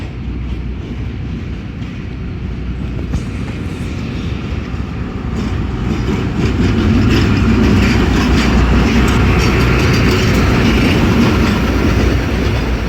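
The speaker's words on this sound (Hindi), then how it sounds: "ये आ गई है जी 1 अप खैबर मेल 6 घंटे 7 मिनट डिले के साथ अटक सिटी जंक्शन पे" Khyber Mail passenger train (1 Up) arriving at Attock City Junction in Pakistan, a steady loud rumble of rolling railcars with clattering wheels that grows slightly louder partway through and continues without talk.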